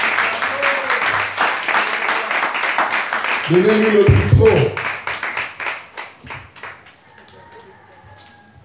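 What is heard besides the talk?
church congregation applauding and clapping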